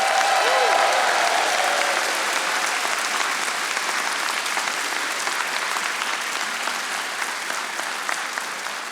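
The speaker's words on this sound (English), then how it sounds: "Go ahead and give them applause." Sustained applause from a large audience at a Wharton MBA for Executives graduation ceremony in Philadelphia, a dense even wash of clapping that fills the hall and slowly tapers.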